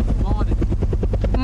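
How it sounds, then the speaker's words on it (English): A helicopter from a film scene whirs loudly and steadily, its rotor beating in a rapid, even pulse throughout a short stretch, with a voice heard briefly over it. "It's a helicopter in her backyard."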